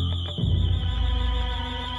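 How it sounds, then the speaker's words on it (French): A loud, shrill house alarm blaring in a burgled home, a steady piercing tone wavering slightly over a low rumble, continuous and close. "L'alarme retentit, stridente, assourdissante."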